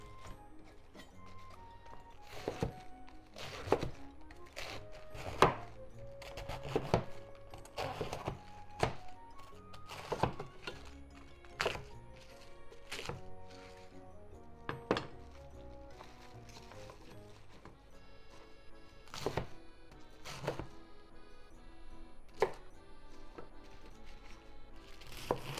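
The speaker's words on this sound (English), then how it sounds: "let's just cut it into bite-sized pieces." A knife chops cabbage into bite-sized pieces on a cutting board, giving irregular, close thunks and crisp cuts spread across the stretch, fairly quiet.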